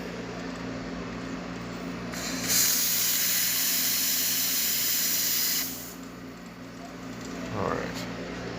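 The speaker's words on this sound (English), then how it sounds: "Let's go ahead and test the steam." The steam wand of a freshly tuned-up Zacconi lever espresso machine releases a loud, steady hiss for a few seconds, then drops back to a softer background hiss, with a brief second burst near the end.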